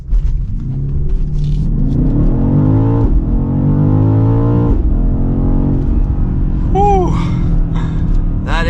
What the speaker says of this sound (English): let's test out launch control one more time